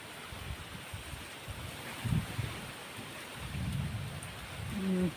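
Steady rain hiss fills the clip, with low rumbling swells that could be distant thunder, no voices present.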